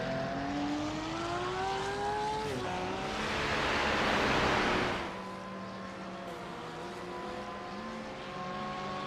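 GT3 race cars pulling out of the pits in the iRacing simulator, engines droning and rising in pitch, then swelling into a louder broadband rush before easing back to a steady hum.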